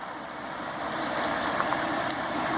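A 2017 GMC Sierra Denali Ultimate 4x4 pickup with the 6.2-litre V8 idles steadily, a close, even engine drone that holds level throughout with no voices over it.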